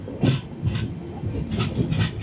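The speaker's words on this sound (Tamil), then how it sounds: "ஸோ ட்ரெயின் வந்து ஸ்டார்ட் ஆகிடுச்சு." A passenger train on a long Rajasthan-bound journey pulls away, its wheels giving soft, rhythmic clattering bursts on the rails at a fairly low level.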